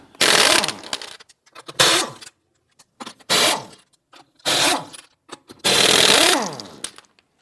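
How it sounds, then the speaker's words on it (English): Lug nuts on a 1997-2006 Jeep Wrangler rear wheel are loosened and spun off with a 19mm socket, giving five loud bursts of whirring, rattling tool noise separated by short pauses, with no talking. "loosen and remove the lug nuts."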